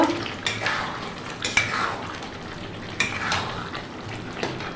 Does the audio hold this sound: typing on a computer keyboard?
no